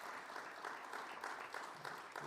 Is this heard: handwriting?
no